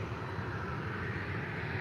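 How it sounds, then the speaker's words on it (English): A Ryanair Boeing 737 MAX 8 taking off at Faro Airport gives a steady, even broadband jet roar heard from a distance, fairly faint and unbroken across the short stretch. "a Ryanair 737 MAX 8 takeoff to Kerry, now going off"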